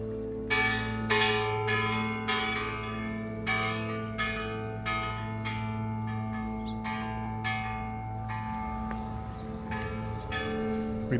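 A large bronze bell at the Children's Peace Monument in Hiroshima is struck rapidly and repeatedly, each loud clang overlapping the long ringing hum of the one before, with no pauses across the whole stretch.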